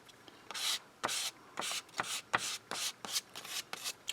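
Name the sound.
paint scraper scraping paint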